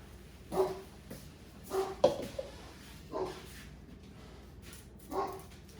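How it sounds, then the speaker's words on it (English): A dog barks several times in a home kitchen where jerk chicken is being made, single woofs spaced about a second apart at moderate distance, over a steady background hum. "Dog."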